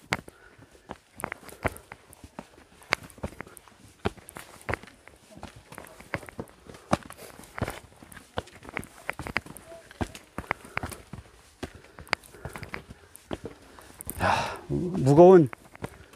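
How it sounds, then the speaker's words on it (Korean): Heavy hiking boots tread a mountain trail up Gwanaksan in autumn, a steady series of close crunching footsteps, with a burst of breathy noise and a brief voice-like sound near the end. "등산화 발자국 소리."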